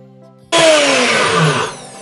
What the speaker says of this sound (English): you just add some oats into a blender and blend until it looks like flour